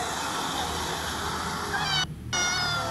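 A cat meows loudly and repeatedly over a noisy room, its drawn-out cries nearly continuous with a short break near the end.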